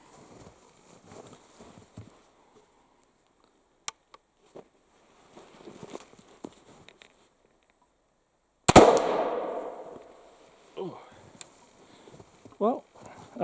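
A 190-year-old gun fires once with a sharp, loud crack that rings out and fades, preceded by quiet handling clicks and rustling and followed by faint movement sounds.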